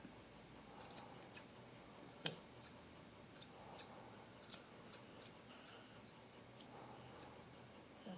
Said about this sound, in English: so I'm just going to trim it off.